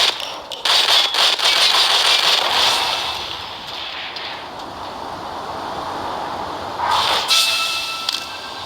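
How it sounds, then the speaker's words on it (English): An exploding barrel in the zombie shooter mobile game Left to Survive, heard as loud, harsh crackling bursts and blasts at the start, a long noisy rushing roar that fades in the middle, and another sharp burst near the end. "So there we got an exploding barrel."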